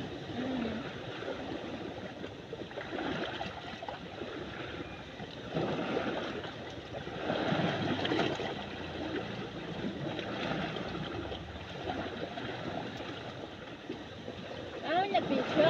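Seawater flows and splashes continuously near a beach, a broad rushing wash that swells and eases, with people talking over it.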